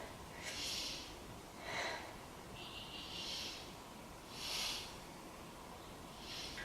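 Soft, close breathing during a beginner yoga hip stretch, with several slow breaths coming as short airy puffs spaced a second or two apart over quiet background hiss.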